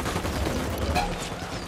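Dense gunfire from the Ghost Recon Wildlands video game, a steady burst of overlapping shots and rattling fire lasting under two seconds at a constant loud level, with faint voices mixed in.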